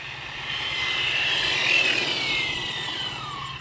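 An FMS Ford Bronco RC car's electric motor running on its first outing, a loud whining buzz that swells up as the car passes close and then sweeps downward in pitch as it moves away.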